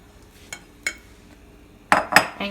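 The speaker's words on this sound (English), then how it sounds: "you're going to mix until you bring this to a boil" A spoon stirs quinoa and mashed tomatoes in a pot, giving a few scattered clinks and scrapes against the metal, sparse at first and then a quicker cluster near the end.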